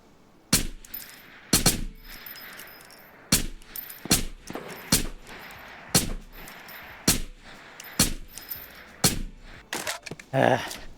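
Sharp gunshots from a firefight in the VR shooter Ghosts of Tabor, fired in irregular single shots and short pairs across the stretch, loud and close with quieter gaps between bursts.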